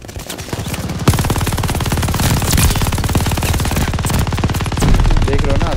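Rapid automatic gunfire in the video game Call of Duty: Vanguard, a loud, steady stream of close shots running almost unbroken for several seconds, with faint talk buried underneath.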